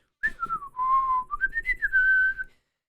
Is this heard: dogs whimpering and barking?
no